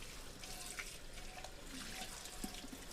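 A tap running water while a copper pot is rinsed by hand at a sink, a faint, steady hiss and splash with small drips and clinks, no voices.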